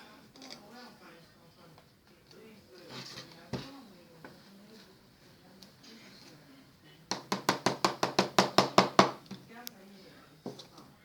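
Nestlé condensed milk scraped out of a container where it had stuck: a quick run of about a dozen sharp, evenly spaced taps and scrapes, close by, after a quieter stretch with a voice talking.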